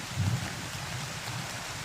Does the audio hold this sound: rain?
yes